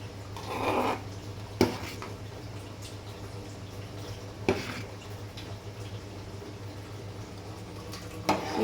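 A pot of food bubbles on the heat while a spoon stirs it to keep the bottom from sticking, a soft steady simmer broken by a few sharp clanks of the spoon against the pot, no talking.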